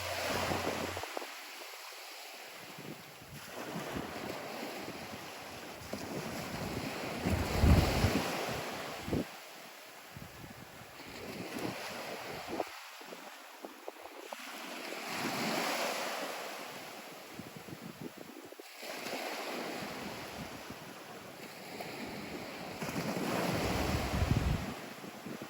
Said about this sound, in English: it just wouldn't be a trip to the beach without a little bit of beach time.